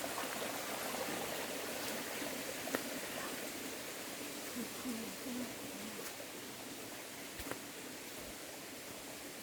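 A mountain stream flowing steadily, a continuous broadband rush of water that stays even and fairly close throughout, with a few faint clicks over it.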